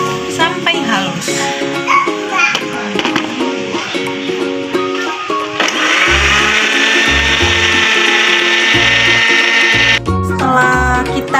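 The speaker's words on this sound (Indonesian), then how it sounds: "Lalu kita akan ke blend kunyitnya sampai halus." An electric blender grinds turmeric until smooth, a loud steady motor whine that starts partway through after background music, running continuously with brief pulses under the music.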